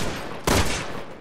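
A single gunshot fired at a zombie chicken at an outdoor market in Resident Evil 6, one sharp loud blast standing out against steady background game ambience.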